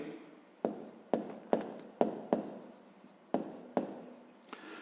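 Numbers are written by hand for a fifth-grade math exercise, heard as a run of close, sharp tapping and scratching strokes, about eight distinct bursts spaced out across the stretch, each fading after it starts.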